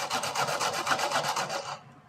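A hand saw cuts a groove through the wall of a PVC pipe, a close, steady back-and-forth rasp of rapid strokes that runs about two seconds and then stops, with no talking.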